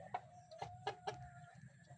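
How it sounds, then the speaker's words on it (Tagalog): Two newly arrived fighting cocks of the Thompson White and Butcher White lines cluck in a string of short, close calls, about five sharp bursts spread over two seconds, above a low, steady background hum. "So yun nga yung dalawa natin na manok na bagong dating mga kabi."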